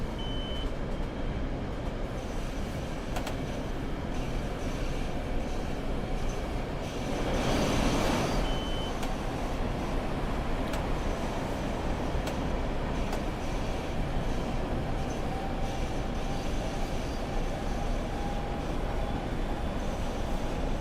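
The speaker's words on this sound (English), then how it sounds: "These trains are naturally loud, though." A loud M8 commuter train runs past continuously with heavy rumbling rail noise and a faint wheel squeal, steady for about twenty seconds, with no talking.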